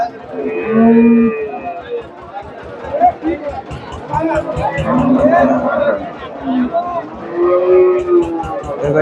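A large dairy cow at the Chandaikona cattle market gives drawn-out moos close by amid a busy crowd, with people talking loudly over the bellowing and general market chatter.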